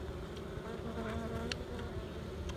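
Honey bees buzz around an open beehive, a dense, continuous hum with individual insects droning close by.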